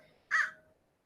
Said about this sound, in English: okay, I hear you, crows